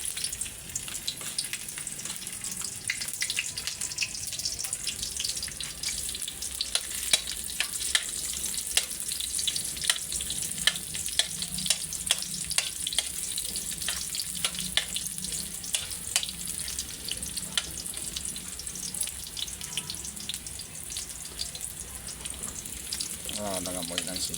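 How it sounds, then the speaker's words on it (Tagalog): Aromatics, including onion, sauté in a hot pan as the first step of a Filipino mung bean stew, giving a steady, dense sizzle with scattered small crackles and pops throughout. "Gisahin muna natin."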